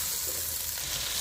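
Onions sizzle steadily in hot ghee for a fish masala curry, a soft continuous crackle and hiss with no voices, close and even throughout.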